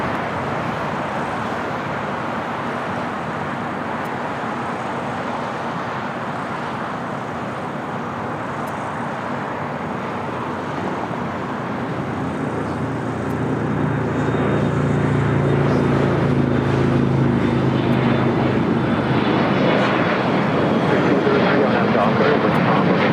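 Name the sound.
jet airliner taking off at LAX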